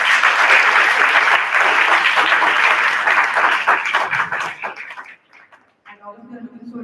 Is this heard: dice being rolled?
no